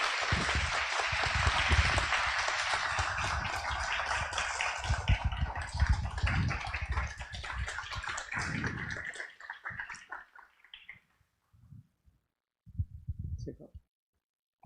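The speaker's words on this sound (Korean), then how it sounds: "여러분 큰 박수로 맞이해 주시기 바랍니다" An audience at a spring academic society lecture gives a long round of applause to welcome a statistics professor. The clapping is thick and steady at first, then thins out and fades to scattered claps, and a few voices are heard near the end.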